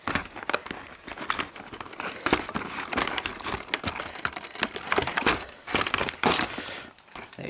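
Bachmann Bethlehem Steel 100-ton three-bay hopper model lifted from its box packaging, with continuous close crinkling and rustling of paper and cardboard and scattered crackles.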